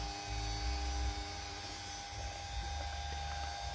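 A household electric fan runs with a steady motor hum and a faint grinding rattle from its worn oscillation gear, close and continuous with no talk.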